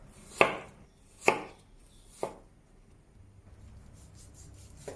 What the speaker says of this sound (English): Cut the ginger into slices.